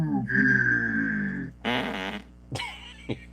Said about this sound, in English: dookie fart sound